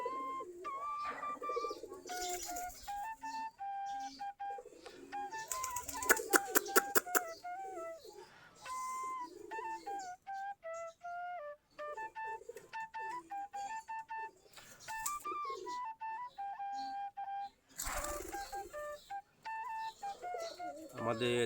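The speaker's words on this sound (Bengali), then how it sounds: "আমাদের দেশি গিরিবাজ কবুতর খাবার খাচ্ছে।" Native Giribaz pigeons cooing while feeding on a wheat and paddy mix, repeated soft warbling coos near the microphone with a few brief rustling bursts and faint background noise.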